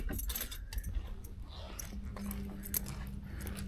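Keys jangling for a 1967 Cadillac Deville, a close, bright metallic rattle in repeated bursts over a low background rumble, with no talking.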